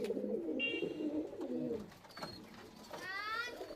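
Andhra high-flying pigeons in a loft coo in soft, low, throaty bursts, with a few higher bird chirps breaking in near the end.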